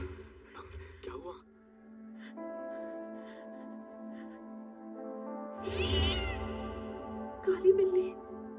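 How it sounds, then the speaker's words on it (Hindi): Black cat meowing faintly, a few short cries mixed with low background music, with a brief louder burst near the middle and a sharper cry toward the end. "काली बिल्ली"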